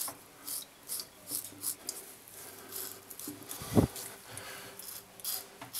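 A razor drags across skin and stubble in a vigorous shave. It makes soft, close rasping scrapes in short repeated strokes, fairly quiet overall, with one sharper scratch partway through.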